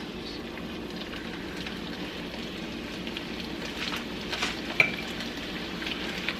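Italian sausage, peppers and onions sizzling in a pot, a soft steady crackle and hiss with occasional small pops, fairly quiet and uninterrupted by talk.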